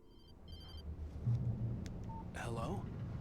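In the Alan Wake video game a telephone rings twice in quick electronic trills, faint under low rumbling ambience, followed by a voice speaking.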